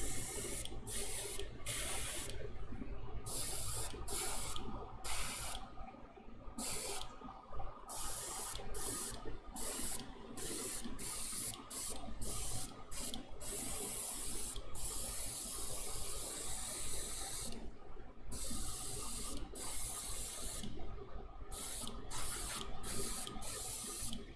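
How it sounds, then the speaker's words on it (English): Spray paint hisses from an aerosol can in repeated bursts, some long and some brief, separated by short pauses, close and fairly loud against a quiet room. "I really can't emphasize enough spraying from like this very bottom angle"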